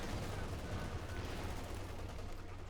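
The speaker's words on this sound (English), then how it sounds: "And we got another barrage here." Artillery barrage in Company of Heroes 2, a dense continuous rumble of distant shelling and gunfire with a heavy low-end roll, steady and moderately quiet throughout.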